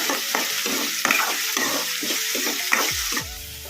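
Chopped onions fry over a medium flame in a pan while being stirred, giving a continuous close sizzle broken by repeated scraping strokes of a spoon at an uneven, busy rhythm.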